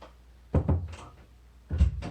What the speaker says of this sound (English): The door is broken, so it keeps opening up and closing